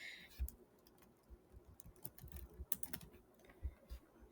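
Rapid, quiet keystrokes on a computer keyboard, an uneven patter of clicks with a few sharper taps, close by and otherwise alone.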